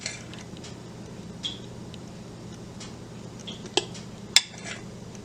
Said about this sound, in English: now we're going to fill our sprayed mini wells with a tablespoon